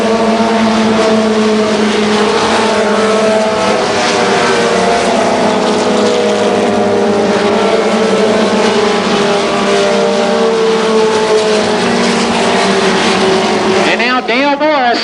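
Mini stock race cars at Columbus Motor Speedway roar continuously in a loud, dense pack with overlapping engine drones, while an announcer's voice calls over the track. Near the end, a single engine sweeps past with a rising and falling whine.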